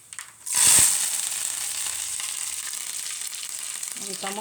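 Curry leaves are dropped into hot tempering oil with spices and a dried red chilli. A sharp burst of sizzling erupts after a brief quiet moment, then settles into a steady, close crackle of frying.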